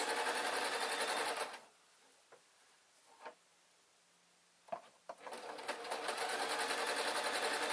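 A sewing machine stitches a Downton Abbey style dress bodice, a rapid mechanical whirr at the start and again at the end with a quiet pause and a few clicks between.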